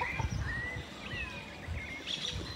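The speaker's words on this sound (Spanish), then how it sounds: "Oh, los pajaritos." Small birds chirp and tweet outdoors in rural surroundings, with thin high calls scattered over low rustling and handling noise and no talk.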